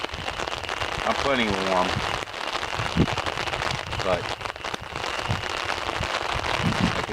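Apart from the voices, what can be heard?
rain falling during canoe trip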